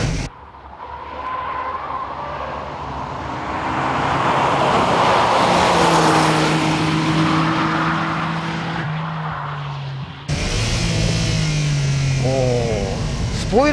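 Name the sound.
Nissan Skyline GT-R R34 engine revving through six-speed gears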